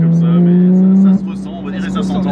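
A Porsche GT3 fitted with an IPE exhaust drones at a steady pitch as it drives, then the note drops abruptly near the midpoint and settles into a lower, rougher tone, loud and close.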